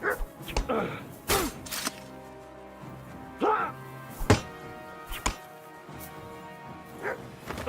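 Dog Mutt barks in short bursts amid combat in Kingdom Come: Deliverance II, sharp yips and woofs scattered across chopping hits and impacts, with a voice speaking between them.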